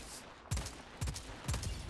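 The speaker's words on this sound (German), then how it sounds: "Drei Schüsse." Three evenly spaced gunshots from the video game Second Extinction, each a sharp, fairly loud report about half a second apart, over a low background hum.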